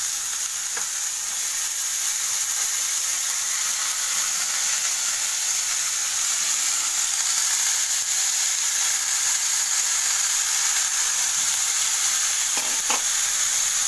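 Potatoes and peas fry with softened onions in a pan, giving a loud continuous hiss and sizzle, with a couple of brief stirring scrapes near the start and end and no talking.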